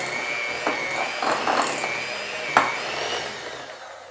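An electric hand mixer churns thick peanut butter cookie dough in a bowl, a steady whirring drone with a few bumps and knocks as the beaters catch the dough, moderately quiet and close.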